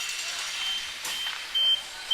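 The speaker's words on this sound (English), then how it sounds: "the buzzer will go to indicate the end of the third" A short, steady electronic buzzer sounds at the end of the third period of a U16 AAA ice hockey game, ringing briefly over broad arena noise.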